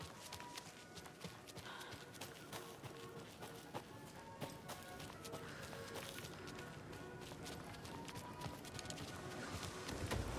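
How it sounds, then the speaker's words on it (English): Footsteps in the survival horror game Alan Wake 2, a steady clip-clopping tread that runs through the whole stretch at moderate loudness over a dense, busy backdrop of game ambience. "Hearing footsteps."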